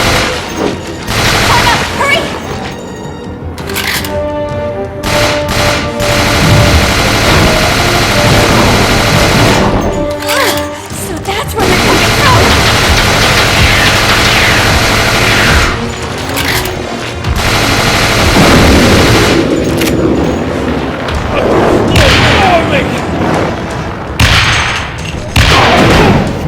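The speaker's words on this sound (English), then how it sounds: "throwing all the grenades in his face" Grenades explode repeatedly against a monster in Resident Evil: The Darkside Chronicles, with loud booms and rattling blasts packed together amid dense game noise and occasional voices.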